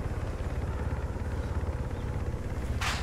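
A Little Bird helicopter landing close by in the military game Arma 3, its steady low rotor thump pulsing loud and continuous, with a brief hissy burst near the end.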